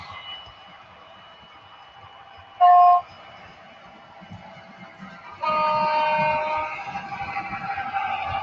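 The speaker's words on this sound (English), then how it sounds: "We now have 4 trains running." Model trains rumble along steadily, with a short sharp horn toot partway through and a longer whistle blast later over the running noise.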